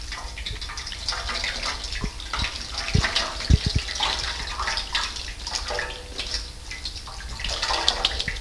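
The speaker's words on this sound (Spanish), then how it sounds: "empezamos con el enjuagado de la mano" Hands being rinsed under running tap water, a steady splashing gush with soft irregular drips and spatters close by, with no talking.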